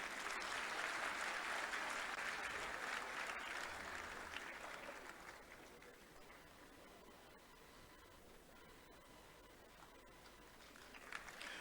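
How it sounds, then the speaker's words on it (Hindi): An audience applauds at a Gwalior statue-unveiling ceremony, dense clapping that starts loud and gradually thins and fades toward the end, with a brief swell at the very close. "कृपया तालियां बजती रहें।"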